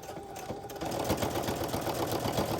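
A sewing machine stitching along the edge of lace while quilting a square runs with a rapid, even mechanical chatter, close and continuous throughout.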